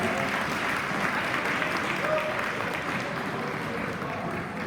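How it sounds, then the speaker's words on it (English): Parents and guests at a soccer all-star luncheon give a round of applause, steady moderate clapping filling the room for the whole stretch, with faint voices mixed in. "Big round of applause for our 2025 All-Stars."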